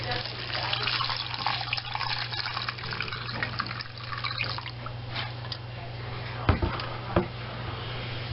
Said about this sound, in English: We're going to start to filter through the coffee filter.